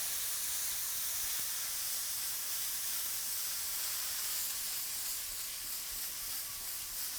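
Vegetables and onions sizzling in a hot pan while being caramelized for tacos, a steady broad hiss that stays even and fairly quiet throughout with no talking.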